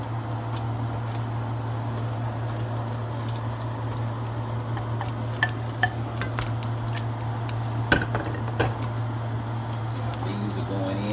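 Beef goes back into a pot of vegetable beef soup with a few light clinks and knocks of utensil against the pot over a low steady hum, no voices.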